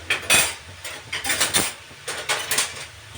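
Metal clinks and scrapes as tongs grip a pot of hot milk on the stove in a home kitchen while making carrot halwa, several sharp clatters in irregular bursts, no talk.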